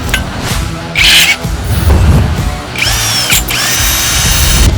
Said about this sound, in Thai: ขุดดินกับเจ้าสว่าน 160 นิวตันเมตร